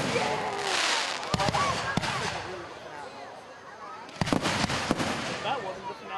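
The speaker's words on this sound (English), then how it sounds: "You gotta light up like the same kind of fireworks." Fireworks crackle and bang in bursts during a Labor Day event finale, sharp pops clustering near the start and again toward the end, fairly distant, with people talking over them.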